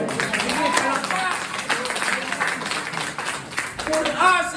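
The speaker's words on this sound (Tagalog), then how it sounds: "Sige, palakpak." A church congregation claps together at a sermon, giving a steady wash of applause under loud, excited speaking and voices throughout.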